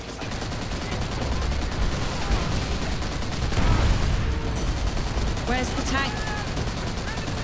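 Continuous loud gunfire and machine-gun bursts in a Call of Duty World at War battle, dense and sustained, with someone talking over the shooting.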